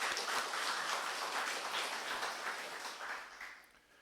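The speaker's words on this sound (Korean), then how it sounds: "우리 하나님께 영광의 박수 돌리겠습니다." Church congregation applauding during an Easter Sunday worship service, a soft, dense wash of many hands clapping at a distance that holds steady and then fades out toward the end.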